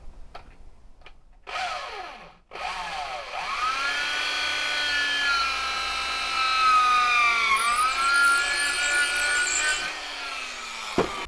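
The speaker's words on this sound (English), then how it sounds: "Don't forget to put a piece of wood behind your piece of wood you're drilling" A power drill whirs into wood backed by a scrap piece, its motor pitch rising and dipping under load, preceded by a few sharp knocks and clatters.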